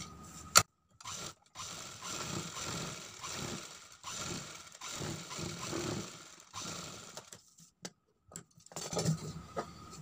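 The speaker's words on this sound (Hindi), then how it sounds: "एक सिलाई हम नीचे की तरफ भी लगा देंगे।" Sewing machine stitching a sleeve seam, running in a few rapid mechanical bursts with short pauses between them, close and fairly quiet, with no talking.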